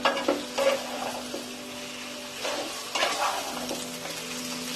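Marinated mutton sizzles and fries in a pan of cooked-down spices for Bengali-style kosha, with steady frying hiss broken by several louder stirring scrapes close by.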